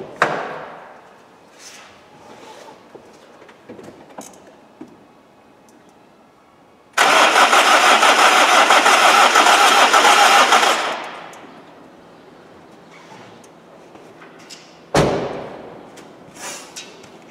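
A 1999 BMW 320D diesel engine cranks hard for several seconds without catching, a loud steady churning burst with quieter workshop clatter and thumps before and after.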